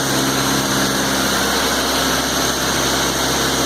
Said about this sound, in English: What a beautiful backhoe made by Kubota.